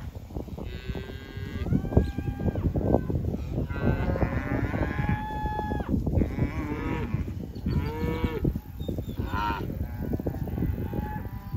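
Red Angus cows and calves, sired by Red Angus bulls, moo repeatedly on a ranch pasture, with overlapping long calls from several animals, some near and loud, others farther off, and no talking.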